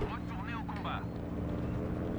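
A plane's engine drones steadily and loudly in the Battlefield V video game, beneath a brief burst of someone talking at the start.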